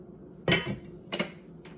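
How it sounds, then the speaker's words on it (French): A metal lid is set onto a cooking pot of simmering conch stew, giving a few sharp clinks and rattles, the loudest first, then two softer knocks, close by with no talk. "Mets le couvercle."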